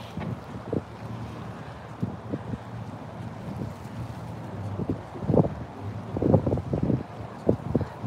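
Wind buffets the microphone in low, uneven gusts on the Taikoo waterfront in Hong Kong, with irregular thumps and rumbles rising and falling over several seconds.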